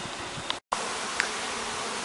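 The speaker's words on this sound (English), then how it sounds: "The bees are, really confused. They're looking for a place to go home" Honey bees swarming around a hive in a failing colony make a steady, close buzzing drone, with a few individual bees zipping past the microphone more loudly.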